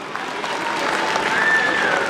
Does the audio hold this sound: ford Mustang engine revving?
no